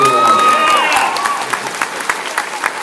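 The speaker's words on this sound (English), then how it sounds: "round of applause for the..." Loud audience applause with scattered cheers, a dense steady clatter of clapping that stays strong throughout.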